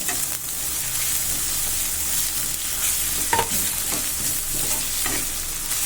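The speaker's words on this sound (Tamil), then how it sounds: "இது போட்டு நல்லா அந்த இஞ்சி பூண்டு வாசனை நல்லா போகிற வரைக்கும் நல்லா வதக்கிடுங்க" Ginger garlic paste sautéing in a pan for chapati kurma, a constant bright sizzle broken by a few spoon scrapes and taps as it is stirred, close and fairly loud, no talking.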